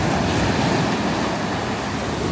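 Powerful waves crash and churn as a dense, steady wash of surf noise, close and loud throughout, with wind rumble and no talking.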